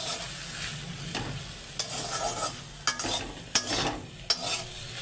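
Boiled taro being stirred with mustard paste in a pan: a soft sizzle with scraping strokes and four crisp clinks of the spoon against the pan at irregular intervals, heard close up.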